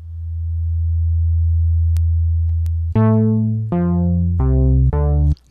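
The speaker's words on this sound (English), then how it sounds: "Now we're getting a little bit more of that analog bass kind of sound." An analog-style bass patch from the Native Instruments Massive synth plays one long sustained low note, then four shorter plucked notes with a filter sweeping down on each, clean and loud with no voices.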